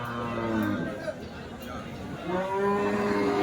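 Cattle at a busy livestock market, likely HF and Jersey cows, give two long, loud moos near the mic, one at the start and another near the end, over a low hubbub of people chattering.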